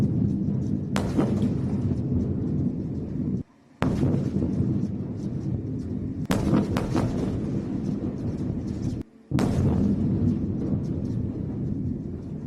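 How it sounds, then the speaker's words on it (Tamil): Repeated explosions from overnight attacks on Gaza, deep booming blasts and sharp cracks recurring across a continuous rumbling din, loud and close, with brief cuts between segments. "தொடர் வெடிச்சத்தம் காரணமாக பொதுமக்கள் அச்சமடைந்தனர்."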